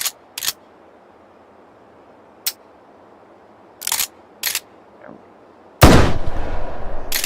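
A Dragon's Breath shotgun shell fires in a virtual reality shooting game with a loud burst and crackling tail, preceded by several short sharp clicks and shots spaced apart.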